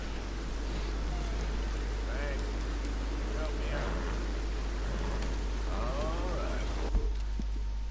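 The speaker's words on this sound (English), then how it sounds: "Great, it's raining." Steady rain falls in the Red Dead Redemption 2 game world, a soft, even hiss with faint scattered patter throughout, low in level and continuous.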